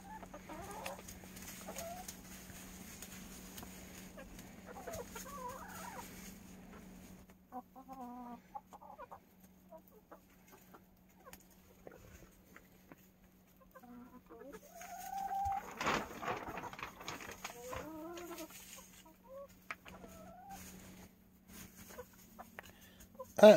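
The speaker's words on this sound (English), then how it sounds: "It's very peaceful just sitting in the coop watching the chickens eat." Hens cluck in a coop while eating, with soft pecking and scratching throughout. Scattered clucks and short calls rise into a louder burst of clucking in the second half, over a steady low electrical hum.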